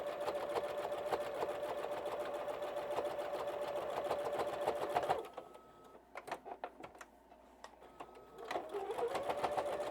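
A sewing machine stitches quilt binding in a fast, even whirring run for about five seconds, then drops to a few short bursts and pauses before resuming.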